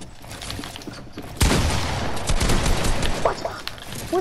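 Rapid automatic gunfire in a first-person shooter video game, a loud burst of shots kicking in sharply and rattling on continuously after a quieter opening stretch.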